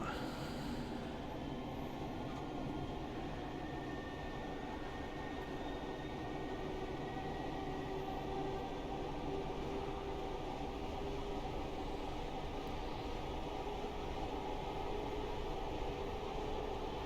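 Class 412 4-BEP electric multiple unit in Train Simulator Classic, running at speed around 80 mph on the London Victoria line, a steady, even rumble of wheels and motors continuing without break.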